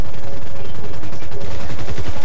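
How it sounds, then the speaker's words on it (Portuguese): Rapid automatic gunfire pounds a helicopter during a heist in the GTA 5 video game, a dense, very loud, continuous burst of fast shots that fills the whole moment. "tá tomando tiro demais"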